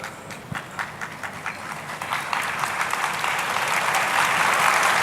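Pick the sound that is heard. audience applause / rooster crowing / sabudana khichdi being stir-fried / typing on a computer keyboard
audience applause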